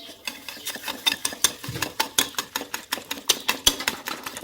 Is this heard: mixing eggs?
yes